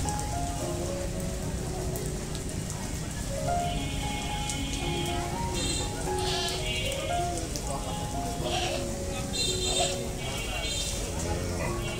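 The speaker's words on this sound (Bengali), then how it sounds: "বৃষ্টি পড়তেছে।" Rain falls steadily on a crowded open-air Qurbani cattle market in Narayanganj, a constant dense patter throughout, with people talking and calling nearby and occasional animal cries mixed in.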